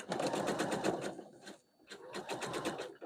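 Sewing machine stitching scrap fabric for a quilt block, close and steady, with a rapid rhythmic needle clatter in two runs separated by a brief pause.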